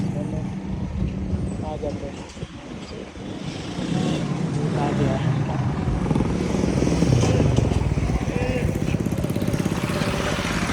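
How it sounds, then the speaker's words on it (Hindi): Motorbike engines running and drawing near on a road toward a city at dusk, a steady droning rumble that grows louder midway, with people talking over it throughout. "चलें जी आप लोगों की बाइक आ गई है और हमारी अभी उधर ही है"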